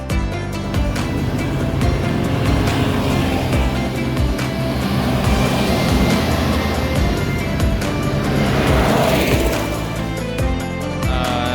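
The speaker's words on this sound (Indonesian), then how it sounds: "ada satu unit bus PO NPM yang akan menuju Jakarta" A PO NPM executive-class bus heading toward Jakarta passes by, a loud sustained engine and tyre roar that swells and fades across the roadside, with no talking over it.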